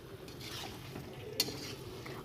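Chicken kosha being stir-fried in a pan for a village lunch, with a steady close scraping and sizzling stir and a single sharp metallic clink partway through.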